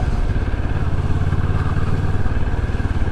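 A 2024 Moto Morini Seiemmezzo SCR motorcycle putters steadily at low revs riding through town, close and loud, a throbbing idle-like rumble with no talking.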